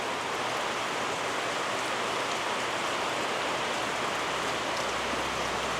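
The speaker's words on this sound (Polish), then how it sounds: "Moja wiocha w deszczu" Steady rain falls on a village in the Philippines, a dense, even hiss of drops that runs unbroken and fairly loud throughout, with no voices.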